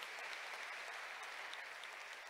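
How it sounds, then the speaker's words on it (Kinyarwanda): A church congregation at a Sunday second service applauds for Jesus, a steady, dense clapping that holds evenly throughout with no voice over it. "Acclamons pour Jésus."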